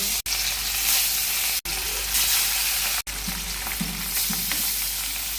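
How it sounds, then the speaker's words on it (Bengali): Fish pieces hiss and crackle loudly in very hot oil in a kadai, a dense continuous sizzle broken by three short cuts, with occasional soft bubbling underneath. "কড়াইতে একে একে মাছগুলো দিয়ে দেবো"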